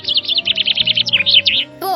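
Small birds chirp in a rapid, high-pitched run of tweets at close range in a park where birds are being fed, with a brief pause before a final call.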